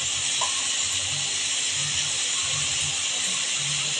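Ginger, onion and garlic paste frying in a pan for duck egg curry, giving a steady close hiss of sizzling oil with soft bubbling pops underneath.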